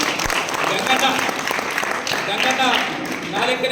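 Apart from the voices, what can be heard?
audience clapping at a celebration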